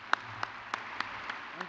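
Slow, evenly spaced claps ring out at a convocation and white coat ceremony honoring administrators and faculty: six distinct, fairly faint hand claps in a steady rhythm, sounding like a single person or a thin few.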